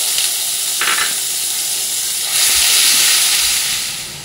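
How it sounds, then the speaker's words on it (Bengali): Ground onion paste fries in hot oil with whole spices, giving a loud, dense sizzling hiss that swells into a stronger surge midway before easing slightly, with no voices. "প্রথমে দিয়ে দেবো পেঁয়াজ বাটাটা।"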